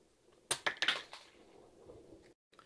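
A Star Wars Force Awakens First Order Special Forces TIE Fighter toy fires its missiles: a quick burst of four or five sharp plastic clicks and snaps close by, then a faint rattle before silence.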